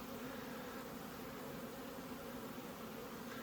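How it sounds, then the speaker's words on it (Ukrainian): Honey bees flying at the hive entrance while carrying pollen make a steady, even buzzing drone. It is faint and continuous, with no voices. "пчоли слабо літали. Сьогодні набагато краще літають"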